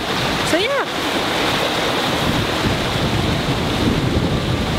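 Strong wind roars and ocean waves wash continuously around a sailing boat in six-metre seas bound for the Canary Islands, loud and unbroken, with a brief whistling tone early on.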